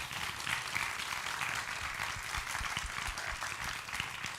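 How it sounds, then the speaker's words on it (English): An audience at a health technology conference session applauds together, steady and dense clapping that goes on throughout, somewhat distant and moderately loud. "let's give them all a round of applause"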